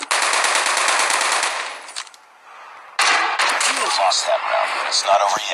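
Call of Duty video game gunfire: a loud sustained automatic weapon burst, a brief pause, then another long stretch of rapid shots mixed with clatter and impacts, with a voice talking underneath.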